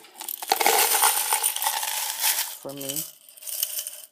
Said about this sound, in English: I'm going to take these glass shards